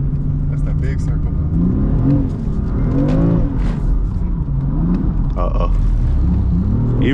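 A BMW M4 accelerating in second gear on a wet track, engine revs rising and falling with a low rumble, a driver's voice talking over it throughout.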